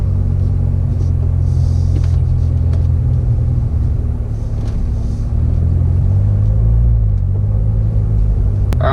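A 2015 Corvette Z06's engine rumbles deep and steady as the manual clutch is slowly let out on flat ground, its low drone swelling a little partway through before settling again.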